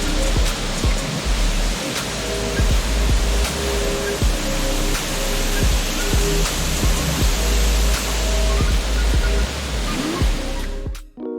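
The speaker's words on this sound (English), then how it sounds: "I sometimes forget how loud a waterfall can be, and this one was deafening." A loud, raging waterfall in Banff National Park roars as a dense, steady wall of water noise that fills the whole clip up close, with no voices, before it cuts off abruptly at the end.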